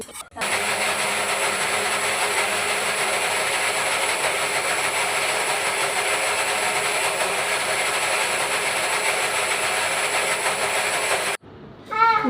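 A mixer grinder whirs loudly and steadily as it grinds washed, soaked rice in its jar, a constant roar that runs for about eleven seconds before cutting off abruptly.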